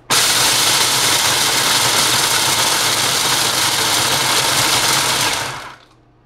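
Blender whirring at high speed as it blends chocolate chips for a vegan chocolate silk pie, a loud and continuous motor roar lasting several seconds that cuts off abruptly at the end.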